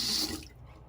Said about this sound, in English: let me quickly rinse it off